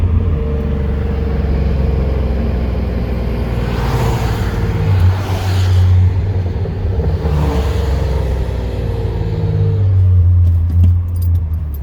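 SAAB car with a new downpipe and midpipe exhaust, cruising at normal RPM, a steady loud low engine and exhaust drone with road rumble and slight swells in revs, no talking.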